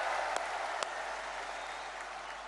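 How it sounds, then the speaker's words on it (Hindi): A large crowd at a political rally applauds to welcome the speaker, a broad, even roar of clapping heard from a distance, with a couple of sharper claps standing out near the start. "एक बार दोनों हाथ ऊपर उठा के तालियां बजा के स्वागत कीजिए"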